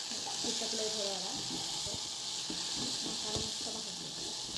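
Biryani masala fries in a pressure cooker with an egg biryani, a soft continuous sizzle broken by scraping stirs of a spoon against the metal, close and moderately quiet with no talk.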